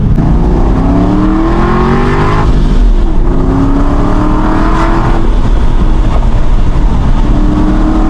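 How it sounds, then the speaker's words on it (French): Loud, close engine roar of an Aston Martin Vantage V8, revving up in repeated rising sweeps as it accelerates through the gears. "Le bruit du V8, il est alors incroyable."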